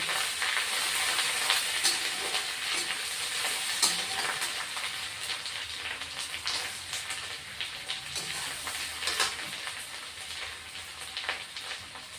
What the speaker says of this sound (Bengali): তারপরে আমি আদা বাটাও দিয়ে দিচ্ছি দিয়ে এখন মশলাটা কষিয়ে নিচ্ছি